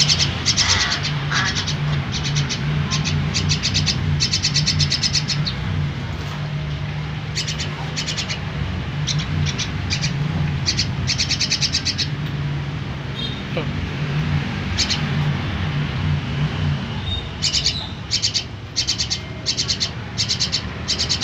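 Young starling and crow chicks call in short repeated chirps and raspy squawks, close and fairly clear, with a voice talking quietly in the background.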